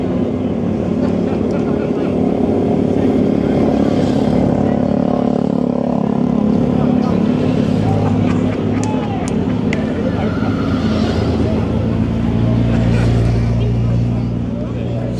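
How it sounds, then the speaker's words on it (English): Motorbikes idle and rumble nearby as riders arrive at a bike show, the engine drone steady and continuous with crowd noise and talk mixed throughout. "Still a lot of bikes coming in."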